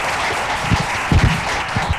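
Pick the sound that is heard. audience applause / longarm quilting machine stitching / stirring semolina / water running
audience applause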